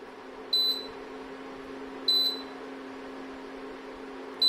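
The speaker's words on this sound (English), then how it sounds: "It's keep beeping because there is no vessel" An induction stove with no vessel on it beeps at regular intervals, short high electronic tones roughly every second and a half over a low steady hum.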